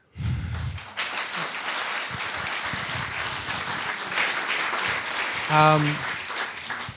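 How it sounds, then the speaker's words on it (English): A live audience at a London show applauds in a steady, moderately loud wash of clapping, with a few voices over it and a brief tonal squeal near the end. "They're applauding now"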